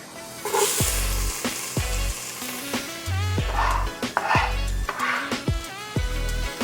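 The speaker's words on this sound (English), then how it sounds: "So I'm gonna saute onions, garlic, some salt and pepper." Onions and garlic sauté in olive oil with salt and pepper, a close sizzle punctuated by repeated low thumps and knocks of a utensil against the pan in an uneven rhythm.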